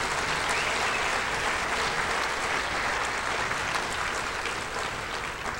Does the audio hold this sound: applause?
yes